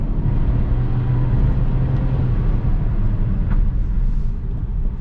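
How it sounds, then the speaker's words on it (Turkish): A 2021 Nissan Juke's 1.0-litre turbocharged petrol engine starts and settles into a steady, low idle hum, heard close and continuous with no talking. "Şöyle bir marş basalım. 1 litre turbo makinamız."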